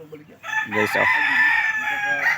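Rooster crowing at GT Game Farm in Mentubista, Davao de Oro, among pure-bred game chickens: one long, loud crow near the microphone, with a few clucks before it. Someone speaks briefly at the start.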